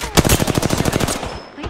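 Rapid automatic gunfire from a video game rattles off in a quick, evenly spaced burst of about a dozen close, loud shots, then stops.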